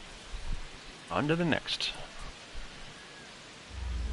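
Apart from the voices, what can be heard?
rain at a ballpark in a baseball video game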